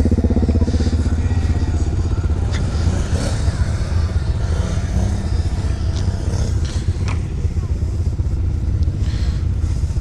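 Can-Am Renegade XMR 1000 ATV engine running steadily and loud throughout while riding, with a continuous low rumble, rattles and clatter from the machine, and faint voices under it.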